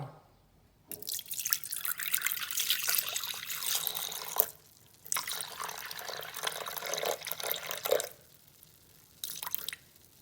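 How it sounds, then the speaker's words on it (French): Semi-skimmed milk poured into a Thermomix bowl, a steady splashing liquid stream in three bursts separated by short pauses, close and fairly clear with no talk. "Je vais commencer à mettre mon lait demi-écrémé."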